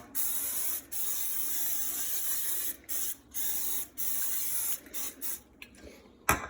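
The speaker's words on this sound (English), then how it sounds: "So we're just going to spray some oil on." A spray can of oil hisses in a long burst onto pork for barbecue, then several shorter spurts in quick succession, close up and fairly quiet.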